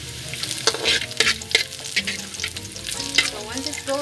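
Garlic and onion sauté in a pan, with a steady close sizzle and frying crackle broken by scraping stir strokes, no voices over it.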